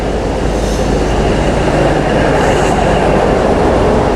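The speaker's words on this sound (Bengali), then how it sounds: "আমাদের ট্রেন ঢুকছে শ্রীনগর রেলওয়ে স্টেশনে 1 নম্বর প্ল্যাটফর্মে।" A train pulls into Srinagar railway station, platform 1, heard from inside a heated carriage with the windows shut: a loud, continuous rumble with a dense rattling clatter and no pauses.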